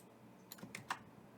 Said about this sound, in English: You have to excuse my poor typing